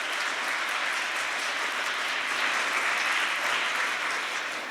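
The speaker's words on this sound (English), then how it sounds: "Let's give a final round of applause to all of our contestants" Spectators at a youth speech competition final applaud the age 11 to 12 contestants, a continuous, even wash of many hands clapping, somewhat distant and soft, easing slightly at the end.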